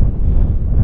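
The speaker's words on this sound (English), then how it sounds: "It's quite windy up here actually." Strong wind buffeting the microphone on an exposed hillside along the West Highland Way in Scotland, a loud continuous low rumble with no voices.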